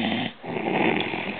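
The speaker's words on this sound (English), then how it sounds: "you're snoring a little bit" A person asleep snoring close by: a steady, raspy, breathy rumble that pauses briefly for a breath, then rolls on.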